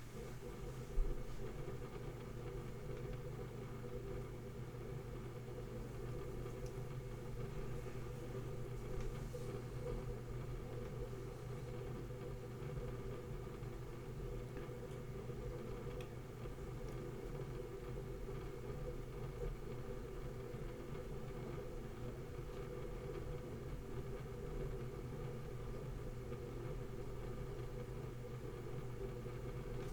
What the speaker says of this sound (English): So that was the noise of the high-end 4K IOP benchmark of